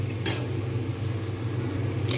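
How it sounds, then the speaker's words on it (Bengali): Chili and turmeric powder get stirred in a cooking pan, a soft sizzle under two brief clinks of a utensil against the metal, with no voices. "নাড়িয়ে দেব।"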